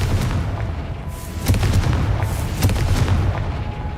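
Confringo fire spell cast in Hogwarts Legacy, giving a couple of deep booming blasts around 1.5 and 2.6 seconds over a steady rumbling game ambience.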